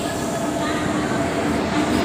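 The Visakhapatnam–Tatanagar Express at platform 1 of an Indian railway station gives a loud, steady rumble of rolling wheels and carriages that fills the whole moment without a break.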